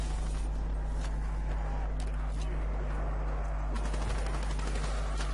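Turret machine gun fire in a video game, bursts of rapid rattling shots under steady game noise and a low hum, with someone talking over it.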